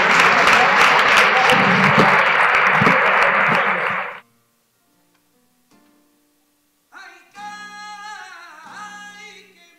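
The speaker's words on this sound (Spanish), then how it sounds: "Un fuerte aplauso." A loud, dense burst of audience applause for the first-prize choir at the Fermín Salvochea contest, sustained for about four seconds before cutting off, followed by near silence and then a voice speaking.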